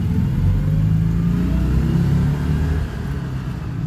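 A Citroen 2CV engine pulling away for a drive around the block, a close low rumbling drone that builds then drops slightly as it moves off, heard alone.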